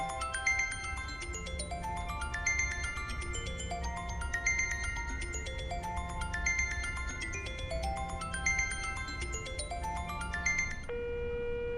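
A phone ringtone plays unanswered, a bright melodic pattern of descending tones repeating in regular cycles for several rounds before cutting off, with no one speaking.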